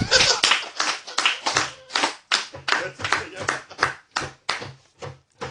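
Rhythmic clapping in a church service, a steady series of loud, evenly spaced claps with voices mixed in.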